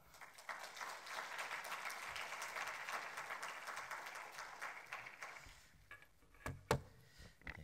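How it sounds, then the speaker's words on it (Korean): A congregation at a Wednesday church service gives a guest pastor a welcoming round of applause, a steady crowd of clapping for about five seconds that thins to a few scattered, closer claps. "우리 환영의 박수 한번 하면서 말씀 기대하겠습니다"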